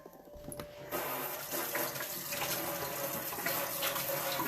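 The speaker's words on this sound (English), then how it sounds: "Washing my hands." Tap water runs steadily over hands being washed in a kitchen sink, a close, continuous splashing hiss that starts abruptly after a quiet moment and carries on to the end.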